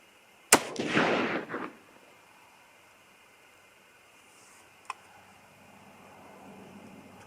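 A single sharp .308 Winchester rifle shot, loaded with a Hornady 150-grain boat-tail soft point bullet over BL-C(2) powder, cracks loudly outdoors and rings briefly away, followed by near silence with one faint click.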